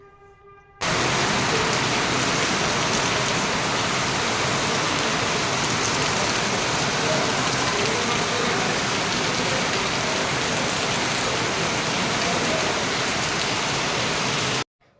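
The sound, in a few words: light rain falling at a temple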